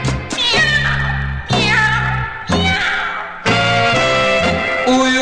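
A series of drawn-out, meow-like cries, about four in a row, over a steady low musical backing.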